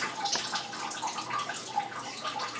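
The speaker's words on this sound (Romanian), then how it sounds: "Deci se umple apă" Water pours steadily into a glass jar as it is filled while canning a zucchini stew, a close, continuous splashing and trickling with no voices.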